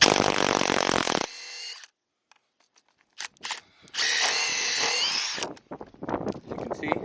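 A power tool spins hard in short bursts while loosening a bolt on the suspension of a 2013 Dodge Charger R/T during a lowering spring install, loud and close, with pauses and a voice talking between bursts.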